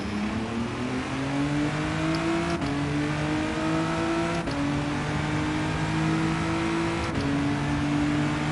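A racing car engine in the Gran Turismo 7 video game drones loud and steady, its pitch climbing through each gear before dropping at every shift, heard alone.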